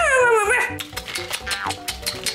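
A small dog yips and whimpers, one rising whine followed by a string of short rapid barks and yelps, close and fairly loud.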